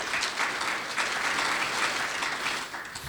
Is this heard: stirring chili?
no